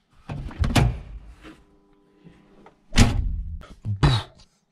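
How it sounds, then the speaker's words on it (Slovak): Heavy doors on a Tatra 603 V8 sedan slam shut twice, two close solid thunks from inside the car with a brief rattle between them. "musíte si vypočuť zvuk tých dverí, keď sa závrú."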